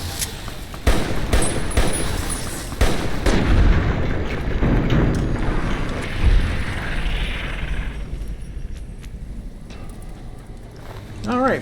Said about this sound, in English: none of these shots are hitting